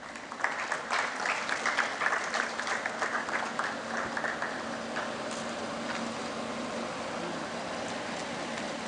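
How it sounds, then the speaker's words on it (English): A round of applause from the audience at a medical expo in Goa, moderately distant and a bit hollow, clapping steadily throughout before thinning slightly toward the end. "Can we have a round of applause"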